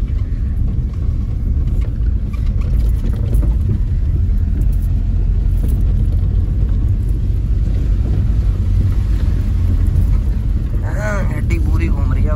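A Maruti 800 car off-roads through a jungle at night with a deep, continuous engine rumble throughout. People talk over the noise.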